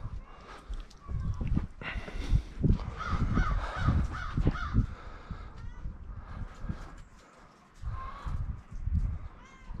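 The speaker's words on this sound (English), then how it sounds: "Watch this cat here." An outdoor cat meows repeatedly in short, fairly close calls, mixed with rustling and handling noise after a snowstorm.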